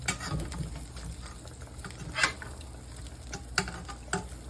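Onion rings deep-frying in hot oil, a low, steady bubbling sizzle with occasional louder pops and crackles, fairly faint and close.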